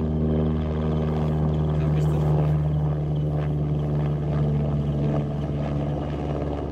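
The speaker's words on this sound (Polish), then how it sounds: "Helikopter leci!" A helicopter drones overhead with a steady low rotor hum, fairly loud and continuous throughout.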